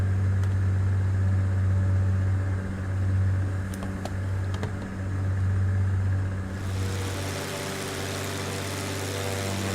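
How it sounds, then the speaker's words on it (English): An aircraft engine in Flight Simulator 2002 idles steadily with a low, even purr and constant hum, continuous throughout with no voices. "It's got a really nice purr sound to it."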